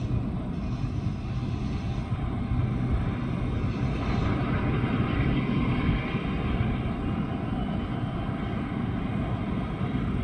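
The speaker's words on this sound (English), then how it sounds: "Oh, I can hear one turboprop going." A Dash 8 Q300 turboprop sits at Canberra International Airport with one engine running, a steady droning hum heard from some distance, holding constant for about ten seconds with no voices.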